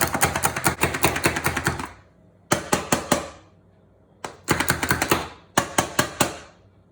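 Plastic manual vegetable chopper dicing jalapenos in a home kitchen: fast bursts of sharp, loud clacking plunges, a run of about a dozen, a pause, then several shorter clusters of rapid hits, close and alone.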